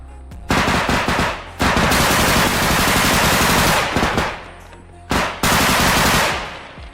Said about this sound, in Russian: зброя максимально нахуй гучно стреляю